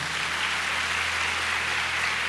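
A church congregation claps together in a steady, dense wash of applause that stays even and unbroken from start to finish, with no voices heard.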